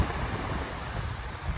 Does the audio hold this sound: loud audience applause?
no